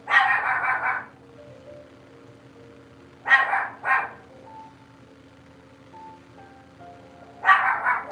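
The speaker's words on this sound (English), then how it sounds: "Sorry, that's my dog." A pet dog barks indoors during a live stream: a burst of barks, a pause, then a double bark and another burst, fairly close and loud over a faint steady background hum.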